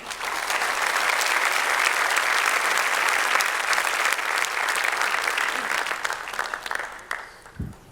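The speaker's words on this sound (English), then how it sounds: "So please, nice round of applause, and join me in welcoming both of them to the stage this morning." A large audience at the Cannes Lions festival claps loudly and steadily, welcoming two Tinder panelists to the stage, the applause thinning and fading out near the end.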